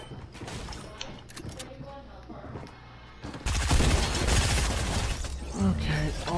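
Pistol shots pop repeatedly in a Fortnite squad fight, scattered at first and then swelling into a louder, denser barrage of gunfire and impacts, with voices mixed in.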